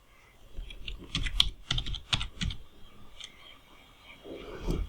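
Computer keyboard keys clicking in quick irregular bursts, close and fairly clear, with pauses between runs of typing while entering a search for a wedding invitation video in Canva.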